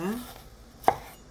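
A single sharp knife chop on a cutting board slices chili peppers and onion, one crisp close knock after a brief quiet moment.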